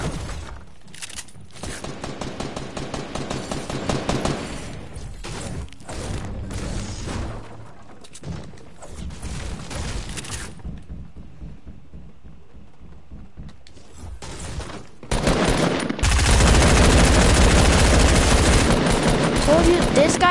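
Video game gunfire in a multiplayer shooter crackles in rapid automatic bursts, with pauses between them and a louder, denser stretch of shooting at the end.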